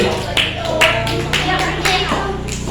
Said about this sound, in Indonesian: Tepuk tangan untuk regu C.